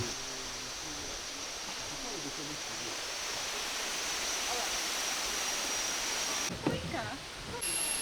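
A waterfall at Sticky Waterfalls in Chiang Mai keeps up a steady, broad rushing hiss throughout, with a brief muffled knock and rustle near the end.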